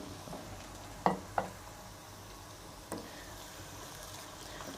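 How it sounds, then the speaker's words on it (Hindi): Chicken frying with onions in a pan for biryani: a soft continuous sizzle with a couple of sharp stirring scrapes and clacks of a spoon against the pan, close and fairly quiet. "और चिकन को भी प्याज के साथ फ्राई होने देंगे।"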